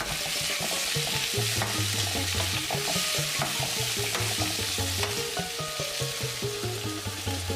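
Tomato pieces sautéed in hot oil for sambar, a steady loud sizzle with constant stirring and scraping of the spatula in the pan, close up and without pause.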